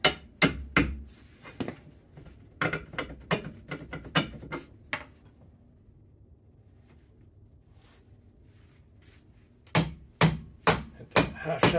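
Metal-on-metal hammer blows on a half shaft to loosen a Ford 8.8 IRS differential bolt, sharp repeated strikes in bursts, then a quiet pause before another quick volley of hits.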